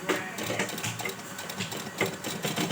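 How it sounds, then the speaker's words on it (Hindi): Sewing machine stitching the shorts of a small girl's dress, a steady close mechanical whirr with a few slight swells in rhythm, running continuously without talk. "अभी हम इसके लिए चड्डी को सिलाई कर देंगे"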